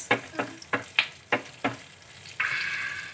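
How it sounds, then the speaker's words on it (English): Metal spoon stirring dhal tempering with asafoetida in a pan: six sharp scraping strokes in steady rhythm, close and clear, then a bright hiss of sizzling oil rising at the end, no voices. "Finally, add in the asafoetida as well. Okay. And then give this a good mix."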